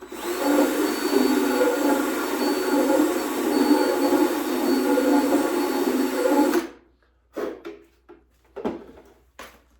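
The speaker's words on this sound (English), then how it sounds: "I have to bore it out a bit with this little carbide guy here" A small carbide bit boring out a hole for a home-built diesel electric submarine part, running as a steady loud grinding whir for several seconds before stopping, then a few short scraping and handling sounds.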